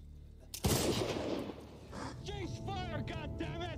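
A sudden loud burst of gunfire from the World War II TV series The Pacific, set on Okinawa, cracks out and rattles for about a second before fading as voices shout and talk over the scene.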